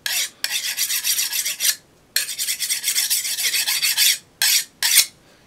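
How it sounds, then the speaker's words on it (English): A steel file rasps across a hardened Damascus steel kitchen knife blade in several close, loud scraping strokes: two long passes, then two short quick ones, with brief pauses between and no talk. "you can kind of hear, but the file skates off the surface"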